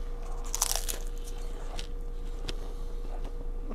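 Close bite into a light, crunchy, flaky brisket empanada with onion and pico de gallo, a short crisp crackle of pastry followed by a few faint chewing crunches, heard alone in a quiet room.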